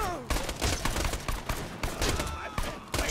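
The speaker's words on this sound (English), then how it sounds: "I love him, like, having a revolver fight against this guy" Rapid revolver gunfight from Borderlands 2, with sharp repeated shots crackling in quick bursts throughout, dense and close, with brief gaps between volleys and a faint voice underneath.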